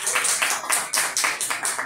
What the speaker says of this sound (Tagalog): Palakpak ng mga taga-Darigayos.